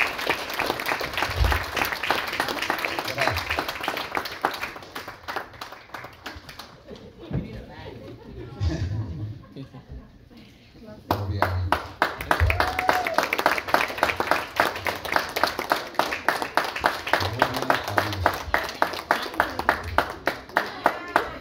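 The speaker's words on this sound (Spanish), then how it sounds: "Aplaudamos, vamos." An audience applauds and claps at a marriage proposal in a church setting, dense steady clapping that pauses briefly midway and then resumes strongly, with voices talking and cheering over it.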